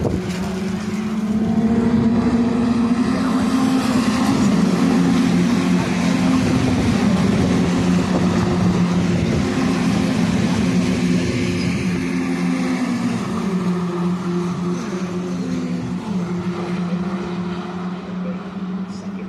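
BTCC touring cars race at Brands Hatch Indy circuit, a loud continuous engine drone with shifting pitch as a pack of cars runs close together, some talk faintly underneath.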